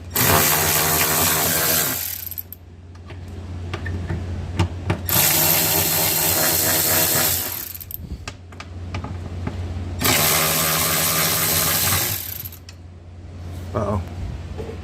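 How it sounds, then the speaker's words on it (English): A power tool loosens bolts and screws on a side-by-side utility vehicle, running in three long, loud whirring bursts of a few seconds each, separated by brief pauses with small clanks of handling. "Let's pop all the bolts, screws, whatever you want to call them,"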